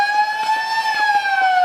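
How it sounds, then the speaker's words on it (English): A loud, steady stadium siren marking half-time at a women's Australian rules football match holds a single sustained wailing tone that drifts slightly in pitch, sounding over faint background noise. "As the siren goes."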